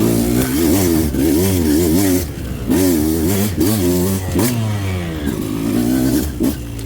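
A 2025 Beta 200 RR race edition dirt bike engine climbing uphill in third gear, loud and close, revving hard in rising and falling surges with rattling engine noise.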